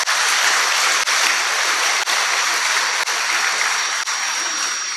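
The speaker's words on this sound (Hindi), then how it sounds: "ताली बजा लो।" A large audience at a spiritual gathering claps loudly and continuously, a dense, steady wash of applause with no talking over it.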